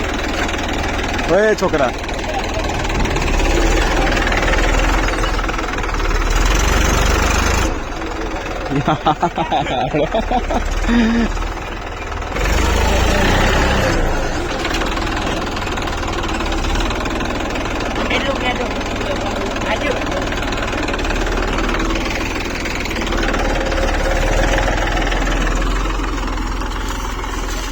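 A tractor engine idles with a steady low rumble through a village outing, running continuously with a brief lull partway, while people talk and call out nearby.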